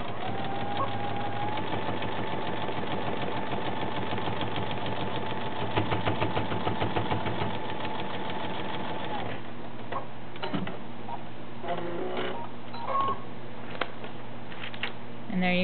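Sewing machine stitching paper piecing, a steady rapid mechanical chatter for several seconds that breaks into intermittent shorter bursts and clicks, with light background sounds.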